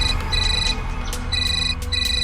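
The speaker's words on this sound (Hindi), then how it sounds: "रणविजय का फोन आ रहा है" An incoming phone call rings with a loud, repeating high electronic tone pattern, several bursts in quick succession, clear and near over a low steady hum.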